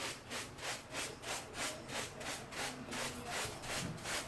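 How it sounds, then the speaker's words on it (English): A sponge wipes excess grout off porcelain floor tiles in a steady back-and-forth rhythm of soft rasping strokes, roughly three per second, close and fairly quiet. "Then you take your sponge, I'm sure you have one in here, and you just wipe up the excess."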